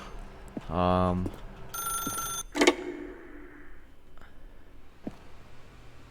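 A telephone in the video game The Stanley Parable rings once in a short, bright burst of bell-like tones, heard among other brief game sounds and clicks with no one talking.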